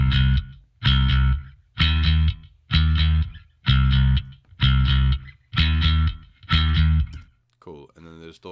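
A clean bass guitar tone plays in a steady, punchy repeating pattern of eight strong notes. It is loud and alone, with a brief different sound at the very end.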